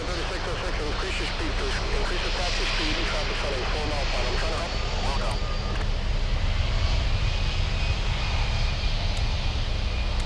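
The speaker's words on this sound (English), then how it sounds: "They're exiting the runway and they're telling the 767 to increase their taxi speed." A Boeing 767 jet taxiing off the runway at Miami airport, with a loud, continuous engine roar and rumble that stays steady throughout, along with some faint voices.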